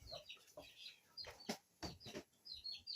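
Chickens clucking in a rural setting, several short irregular bursts of clucks and calls at moderate volume, with occasional faint chirps between them.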